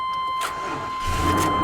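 An old Chevy truck engine cranking and catching, a short mechanical starter whir followed by the low rumble of the motor firing up and settling into a steady idle, close and fairly loud.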